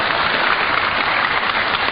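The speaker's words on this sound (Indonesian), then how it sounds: "Boleh tepuk tangan bapak-bapak." An indoor audience at a religious lecture in a military command hall applauds, with dense, steady clapping at an even level throughout.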